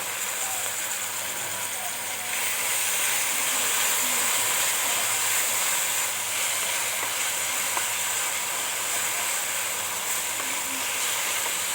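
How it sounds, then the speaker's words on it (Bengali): Dried shrimp go into a hot pan and set off a steady, loud sizzle that holds without pause, a bright hiss that grows slightly fuller partway through. "এবার আমি দিয়ে দিচ্ছি চিংড়ি শুটকিটা"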